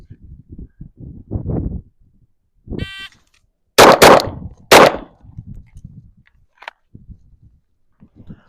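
A Glock pistol is fired in a low-ready shooting drill: a loud, sharp report rings out, then two more follow in quick succession a moment later, with someone talking quietly before and after.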